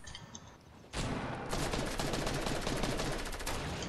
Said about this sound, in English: I think somebody's shooting at me.